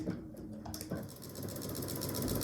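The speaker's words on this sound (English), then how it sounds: "Do a little back stitching." A sewing machine back stitches fabric for a Christmas stocking, starting after a brief pause and then running as a steady, close mechanical whir with a fast rhythmic needle chatter.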